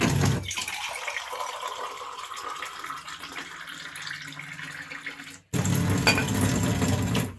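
Water runs and pours into a vessel for drinking at home, a steady splashing stream that changes tone as it fills, briefly stops, then resumes loudly.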